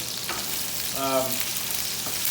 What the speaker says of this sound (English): I'm going to keep this thing stirring the hot oil.